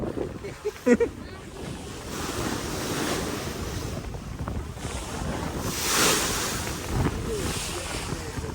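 Monsoon waves on the Padma River wash and roll continuously with wind rushing across the microphone, swelling louder midway, as if heard from a boat on open water.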